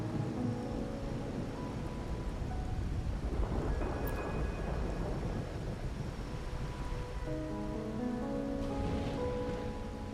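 Steady rain pours in a stormy scene in the video game Wuthering Waves, a dense, constant hiss with low rumbling underneath and soft musical tones drifting over it.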